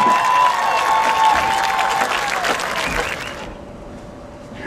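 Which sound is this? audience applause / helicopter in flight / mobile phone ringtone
audience applause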